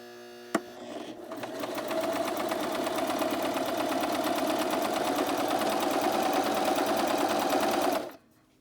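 A sewing machine stitching two lines runs in one steady, even whir after a brief click at the start, loud and close, then stops abruptly near the end.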